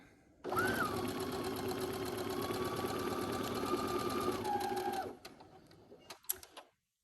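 A sewing machine stitches quilt binding in one continuous run of about four and a half seconds, a close, even mechanical whir that then stops, followed by a few soft handling clicks and knocks.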